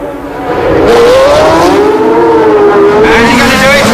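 Formula 1 cars with Cosworth Ford V8 engines accelerate at the 1976 United States Grand Prix West, a loud, sustained high-pitched engine scream rising through the gears with a commentator talking over it.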